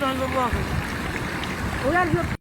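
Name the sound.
flood water flowing in a valley onto the street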